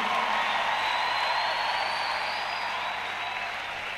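A church congregation applauds and cheers for Jesus in a dense, sustained wash of clapping that fades slightly toward the end, with faint voices mixed in.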